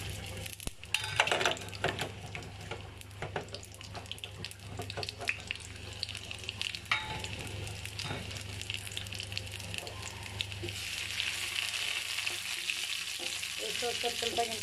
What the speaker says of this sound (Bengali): তেলটা গরম হলে আমি এখানে রসুন কুচি দিয়ে দিব।